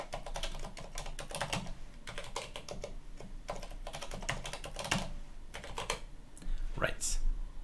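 Someone types a password on a computer keyboard, a quick run of close key clicks in uneven bursts with a brief pause near the end, and talking comes in around the typing.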